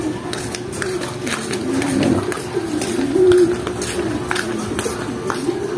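A nearby bird, sounding like a pigeon or dove, gives soft repeated cooing calls amid busy outdoor background noise, with voices faintly present.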